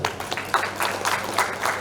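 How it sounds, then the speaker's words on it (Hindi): An audience at a Bihar Diwas cultural event in New Delhi applauds after a musical performance, giving dense, steady clapping from a sizable crowd throughout, heard fairly close. "जोरदार ताली होनी चाहिए।"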